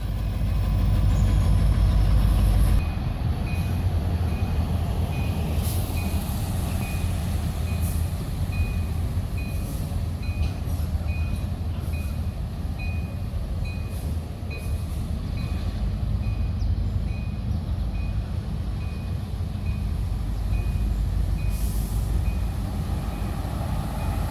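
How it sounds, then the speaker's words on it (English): Two Norfolk Southern diesel locomotives haul a short freight train on the Lehigh Line at Easton, a steady, fairly loud low rumble running throughout, with a faint repeating high beep layered above. "the pair of diesels pull a much shorter freight train"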